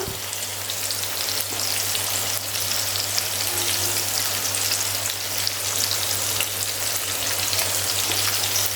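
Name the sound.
stuffed chimni fish frying in a pan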